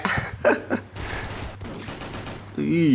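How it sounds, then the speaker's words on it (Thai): A G36C rifle fires in the mobile shooter SF Mobile, sounding as quick bursts of gunfire mixed in with someone talking excitedly over them. "นี่มันดังแปะแปะแปะว่ะคุณผู้ชมครับปืนเนี้ย"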